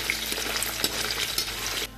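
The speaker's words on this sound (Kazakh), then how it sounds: "Қойдың құйрығын қызартып қуырып аламыз." Sheep tail fat frying in a pot for Samarkand plov, a loud continuous sizzle with crackling spatters close up, heard alone without talk until it cuts off near the end.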